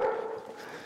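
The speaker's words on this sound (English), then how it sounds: "That's Bosco the Wonder Dog." A police drug-sniffing dog gives one short, fairly loud bark that trails off quickly, close by.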